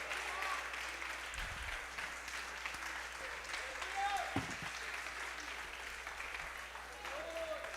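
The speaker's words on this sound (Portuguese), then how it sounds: "Aplauda ao Senhor." A church congregation claps steadily in continuous applause during a worship service, filling the room, with occasional voices calling out over it.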